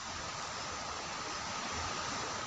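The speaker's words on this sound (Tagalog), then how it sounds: "malakas ng alon dito sa amin." Strong sea waves rendered as a constant, broad roar of rushing water, steady and fairly close with no talk over it.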